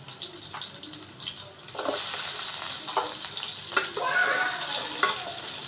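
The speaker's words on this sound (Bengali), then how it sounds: "তো তেলটা গরম হইলে পেঁয়াজটা দিয়ে দিলাম।" Chopped onion hitting hot oil in a home kitchen pan, bursting into a loud, steady sizzle after a quiet start, with occasional stirring clatter over the continuous hiss.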